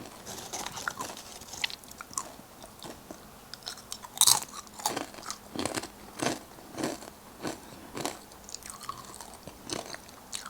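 Close, crisp crunching of a salty, crunchy snack eaten ASMR-style with Samyang fire noodles: one sharp loud bite, then steady rhythmic chewing crunches repeating about every half second, with no voices.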